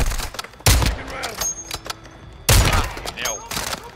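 Video-game gunfire: two sharp bursts of shots about two seconds apart, loud and close, each trailing off into scattered echoes and small clinks.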